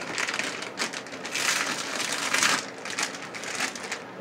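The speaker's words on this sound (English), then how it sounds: "peel it off" An adhesive GRIPTILE towelette holder is peeled off a wall, giving a close, continuous crackling, tearing rustle with slight swells in loudness and no voices.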